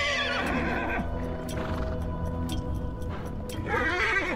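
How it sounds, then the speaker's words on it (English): Horses in the swamp of the video game Hunt Showdown neigh and whinny repeatedly, close and loud, with shifting hoof sounds and game ambience behind them. "I'm hiding right behind the horses."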